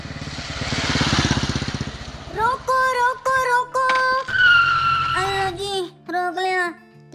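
A cartoon motorcycle engine putters in a steady, pulsing idle for about two seconds. Animated character voices then take over and continue talking to the end.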